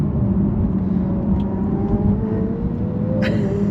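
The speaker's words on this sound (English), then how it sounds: "as the 765 LT Spider just passes us" A McLaren 765 LT Spider drives past, a loud steady engine rumble and rising whir from inside a moving Porsche 992 Turbo S, with a short sharp tick near the end.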